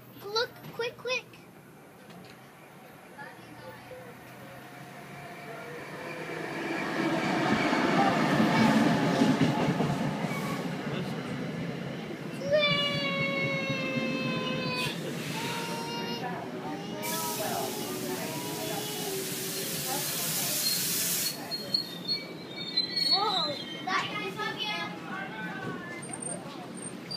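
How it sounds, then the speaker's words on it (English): A train rolls past at a station platform, a low rumble building and fading with hissing and squealing wheel tones, while adults and young children talk over it close by. "Joseph, you want to see another choo-choo? Well, here it comes. It's going out"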